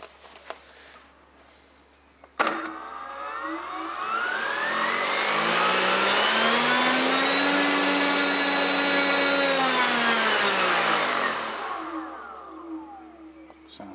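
An electric motor on a Hobbyking FW190 RC model plane spins up with a sharp start, climbs to a steady high whine that holds for several seconds, then winds down.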